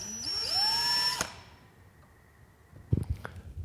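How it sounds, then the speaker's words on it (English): Power drill boring holes in wooden xylophone keys, a loud rising whine that spins up and holds for about a second before cutting off, followed by quiet and a few clunks of handling. "I'm going to pull the keys and finish drilling out the holes"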